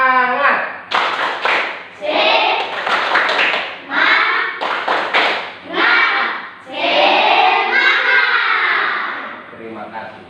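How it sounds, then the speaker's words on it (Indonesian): In a classroom, schoolchildren perform a rhythmic spirit clap, with sharp patterned hand claps mixed with loud group chanting in several bursts, close and lively. "Bapak Guru coba dengan cara tepuk semangat"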